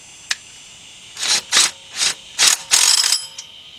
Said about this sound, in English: I switched over, I'm using my cordless impact